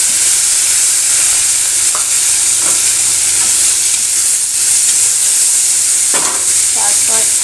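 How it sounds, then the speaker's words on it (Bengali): Onion flower stalks frying in hot oil, a loud, dense, continuous sizzle with occasional sharper pops and stirring scrapes near the end. "এবার সবগুলোকে একসাথে আমি ভেজে নেব।"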